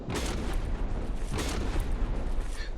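Explosions striking heavy metal armor in a battle video game, heard as two booming blasts with a rumbling tail that carries through the gap between them, loud and close with no talk.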